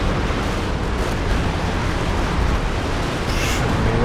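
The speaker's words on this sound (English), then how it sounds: "Rock barrage coming in." Rocket artillery barrage in Company of Heroes 2, a dense continuous rumble of overlapping explosions at steady high loudness with no breaks, with no voices over it.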